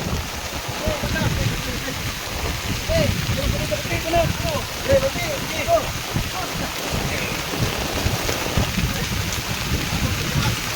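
Steady rain patters and hisses across surfaces while voices talk underneath, a continuous wash of sound throughout.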